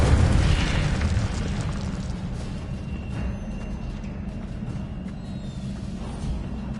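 Incendio fire spell blast in a video game, a heavy booming burst that opens loud and rolls into a sustained low roar of flame, fading slowly over several seconds with no talking.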